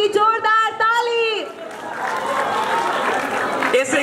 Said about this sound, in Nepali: सरहरूका लागि जोरदार ताली